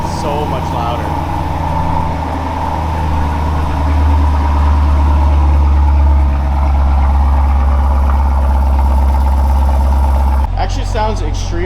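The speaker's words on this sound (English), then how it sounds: "we're gonna be doing our first remote start here with the valves open" A car with a Valvetronic Designs exhaust, valves open, idles after a remote start with a steady, loud, deep rumble that holds throughout and drops in tone near the end, with people talking over it.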